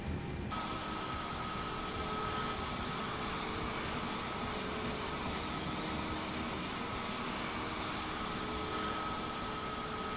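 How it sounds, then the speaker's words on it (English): An Airbus A320 taxis out to the runway in Microsoft Flight Simulator 2024, its jet engines giving a steady, loud whine and roar with a constant high tone throughout. "Now we've taxied out to the runway"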